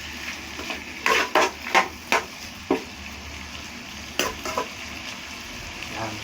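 Meat frying in a pan for Pangasinan pakbet, with a steady sizzle under a series of sharp scraping and stirring knocks from a utensil, close and moderately loud.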